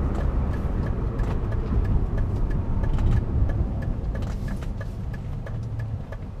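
A 1999 Renault Megane I Coupe 1.6 16V 110 hp engine hums steadily from inside the cabin while driving, with a low rumbling drone and faint ticking sounds.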